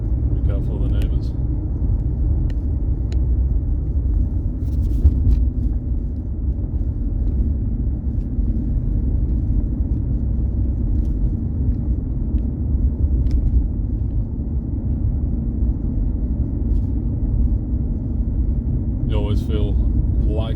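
Smooth, quiet engine rumble from a large car with a long bonnet cruising on a road, building into a stronger pull as it accelerates, steady throughout with faint higher noises near the end.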